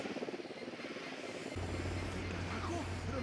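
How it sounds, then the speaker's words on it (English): A drone buzzes steadily in the Ghost Recon Wildlands video game, its low drone and engine hum setting in partway through and continuing over game ambience. "They hear the drone."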